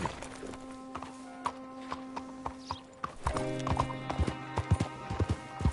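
Hooves clip-clop in the Red Dead Redemption video game, slow and sparse at first, then a busier trotting rhythm from several horses. A horse whinnies and music tones sustain underneath.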